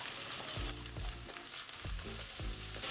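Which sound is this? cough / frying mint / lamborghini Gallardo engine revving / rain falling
frying mint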